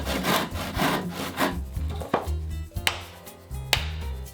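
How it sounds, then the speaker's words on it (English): A handsaw rasps through wood in quick back-and-forth strokes, close and rhythmic, slowing to a few separate strokes near the end. "I'm going to start with a handsaw"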